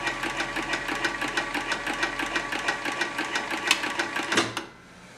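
An Artisan Toro 3200 sewing machine winds a bobbin with a close, steady, rapidly pulsing whir that runs for over four seconds, then winds down and stops.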